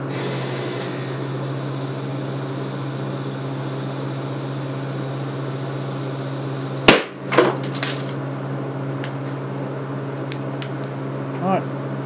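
A capacitor with its vent blocked by epoxy, charged by an arc welder, bursts with a single sharp crack and a brief clatter after a steady electrical hum, followed by quiet and a faint later tick.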